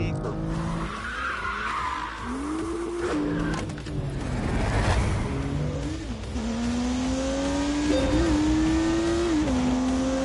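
A race car lapping a circuit in The Grand Tour video game, its engine note rising and falling through gear changes while tires skid and squeal, with talk over it.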